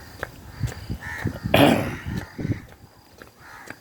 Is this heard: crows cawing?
yes